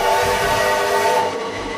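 A train sounds a long, steady horn or whistle as it arrives, a loud sustained tone with a low rumble beneath, used as a horror film effect.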